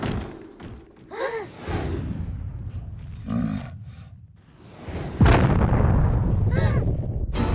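Cannon fire in an animated train parody comes as scattered booms and thuds under intermittent voices. A single loud, sharp blast near the end is followed by a sustained roaring rumble.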